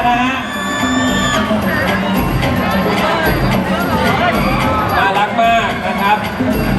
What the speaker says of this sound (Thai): เสียงกรี๊ดมาครับแฟนคลับ